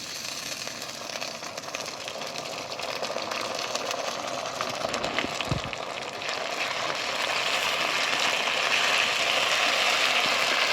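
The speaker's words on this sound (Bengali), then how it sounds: "পেঁয়াজ রসুন আমার ভালোভাবে ভাজা হয়ে গেছে লাল লাল করে" Onion, garlic and ginger paste frying in oil for a village-style goat mutton curry, a steady close sizzle with stirring scrapes throughout, growing slightly louder toward the end.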